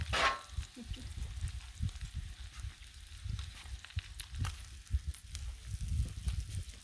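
Bacon fries on a griddle with a faint, soft sizzle and scattered small pops and crackles, quiet and steady in the background without speech.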